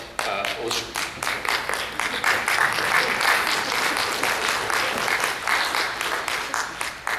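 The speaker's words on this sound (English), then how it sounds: "So please join me in a round of applause" Crowd applause at a mental health recovery awareness awards event, a sustained, loud wash of many people clapping that holds steady for over seven seconds with slight rises and dips.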